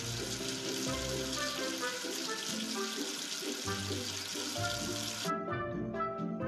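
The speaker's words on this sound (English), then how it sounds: "Wash away the soap with water." Cartoon sound effect of water rinsing soap off a number figure in a children's counting game: a continuous hissing splash of running water with bubbly, musical tones underneath, the hiss cutting off near the end.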